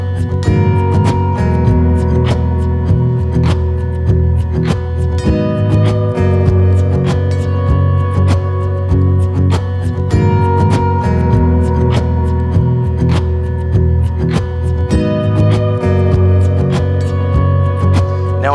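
An ambient guitar loop played on a Relish Jane guitar through a Boss Loop Station, using the magnetic pickup with mellotron and delay effects, sustains steadily and densely throughout with layered tones and no talking.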